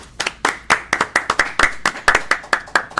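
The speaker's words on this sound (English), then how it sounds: "thank you for the round of applause for the team" Brief clapping from a small group of people in a studio, about a dozen distinct, sharp claps in an uneven rhythm, fairly close and clear with no talking over it.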